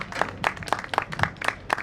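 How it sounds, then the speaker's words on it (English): Outdoor crowd applause for performer Linda Russell at Lower Manhattan Fourth of July festivities, sparse and rhythmic clapping in a steady beat of distinct claps, moderately close. "Please, another round of applause for Linda Russell."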